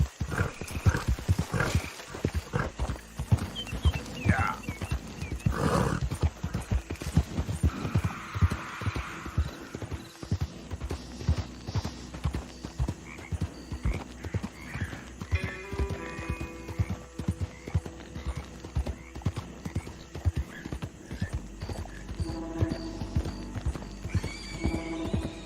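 A horse in Red Dead Redemption 2 gallops with rapid rhythmic hoofbeats, snorts and a whinny, tack rattling throughout, all close and loud.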